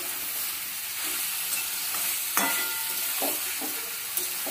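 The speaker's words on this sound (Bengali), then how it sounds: "মশলার সঙ্গে যত সুন্দর করে আলু আর এঁচড় কষানো হবে তত স্বাদ হবে এঁচড়ের ডালনা।" Potatoes and jackfruit frying with spices in a pan, stirred steadily; soft continuous sizzling broken by occasional scrapes and clacks of the spoon, close and fairly quiet, with no talk.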